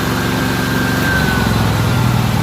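Hobart generator engine running steadily and rising in pitch as it throttles up from idle, a loud, close, continuous drone with no talking.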